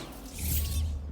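Bombarda blasting spell cast in Hogwarts Legacy, a short loud burst with a bright crackling shimmer over a heavy low rumble, lasting about a second.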